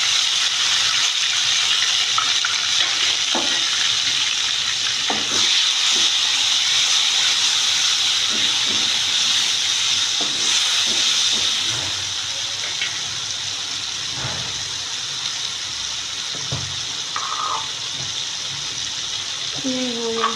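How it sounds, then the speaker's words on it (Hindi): Chopped tomatoes go into a pan of browned onions, setting off a steady, bright sizzling hiss that carries on throughout, with a voice talking intermittently over the frying. "ये ब्राउन हो गए हैं हमारे, अब इसमें टमाटर।"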